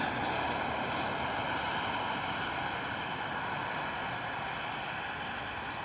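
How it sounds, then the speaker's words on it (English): An EasyJet Airbus A320 on approach to Bristol Airport in wet, stormy weather produces a soft, steady engine roar, faint and distant, holding constant without breaks. "A320 in from Nice, EasyJet, 214 variant."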